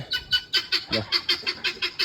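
Chickens cluck while waiting for their morning feed, a close, regular run of short clucks repeating roughly four times a second, with one lower, throatier call partway through.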